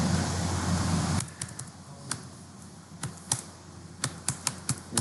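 Computer keyboard keys tapped in short irregular bursts while code is typed in a programming class, close and fairly crisp, following a stretch of low room hum with no talking.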